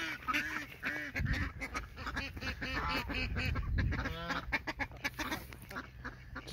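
A duck beside a pond that is drying out quacks in repeated nasal calls, close and fairly loud, with irregular bursts and short pauses over quiet outdoor background.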